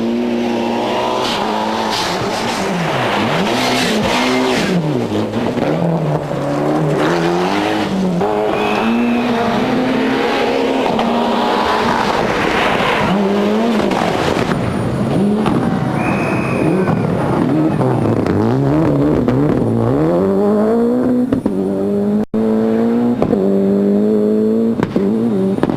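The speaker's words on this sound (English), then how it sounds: "the sights and sounds of the world's fastest rally drivers in their high-tech, high-powered four-wheel drive Flyers" Four-wheel drive rally cars racing on a stage at the 1994 Rally of New Zealand, loud engines revving and rising through gears with tire noise, passing close and continuous throughout.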